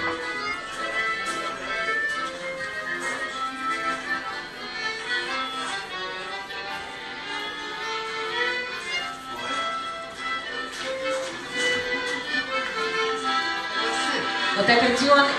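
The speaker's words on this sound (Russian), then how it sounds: "Вот аккордеон и скрипка – очень популярный ансамбль." Accordion and violin ensemble playing a lively, somewhat fast piece in a Vienna café setting, with steady continuous melodic lines throughout and faint background noise.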